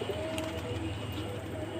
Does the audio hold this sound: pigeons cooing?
yes